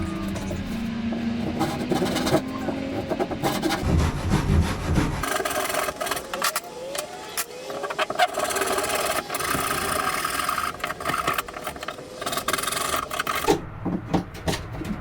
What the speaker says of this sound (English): You know, I forget sometimes how efficient a handsaw can be. When they're sharp, they cut real fast.